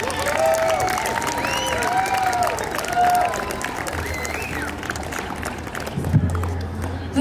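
An outdoor live concert audience applauds and cheers, a steady crowd clapping with whoops and shouts scattered through it and a low instrumental drone underneath.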